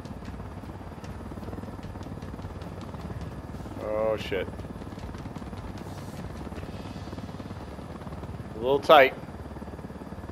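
A helicopter in a video game drones steadily throughout, flying low and coming in to land among trees, with someone speaking briefly over the engine noise.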